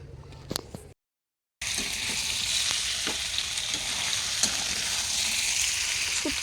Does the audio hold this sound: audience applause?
no